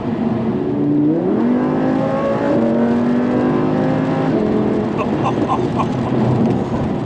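A 2016 Audi R8 V10 Plus engine revs loudly and high-pitched through rising gears in heavy rain, its sustained wail climbing and holding close by, with faint voices underneath.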